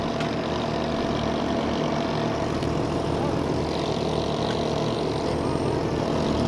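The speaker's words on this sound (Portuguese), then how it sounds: "vocês preferem escutar o ronco da moto do que a voz aí" Several sport motorcycles, a Yamaha XJ6, Yamaha Fazer 600, Kawasaki Z800 and Honda CBR600, rumble together in a steady, loud, continuous engine drone with no pauses and no talk over it.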